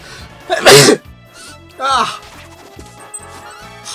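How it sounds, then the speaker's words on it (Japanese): A single loud sneeze from a person with a cold, sharp and close, followed by a second vocal burst, over quiet game background music. "もうなんかさっきがくしゃみが出そう"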